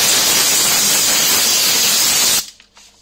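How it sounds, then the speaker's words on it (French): A loud, close hiss of steam from a steam cleaner, sprayed under fridge drawers, sprays steadily for over two seconds, then cuts off abruptly into near silence. "je vais envoyer ma vapeur pour nettoyer sous mes tiroirs."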